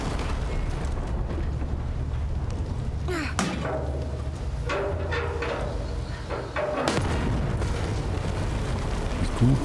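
A deep cannon blast in Shadow of the Tomb Raider booms out amid a rumbling game soundscape, followed later by another heavy impact as the low background roar continues.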